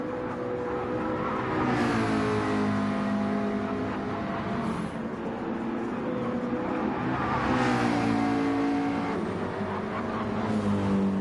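A McLaren 650S race car engine revs hard at Watkins Glen, loud and continuous, with rising and falling pitch sweeps as the car accelerates and shifts through gears, no talk over it.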